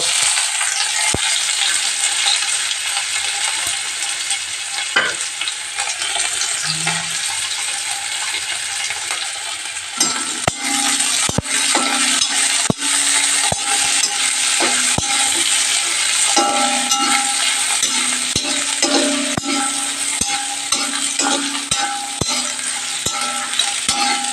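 Onion and garlic fry in a pan with red spinach (lal shak), a steady bright sizzle running throughout while a utensil scrapes and stirs with intermittent clicks and knocks, no voices.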